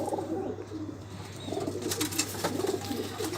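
Cooing of a male Teddy pigeon, low soft coos repeating in a steady rhythm close by over a constant low background hum, with a few faint chirps.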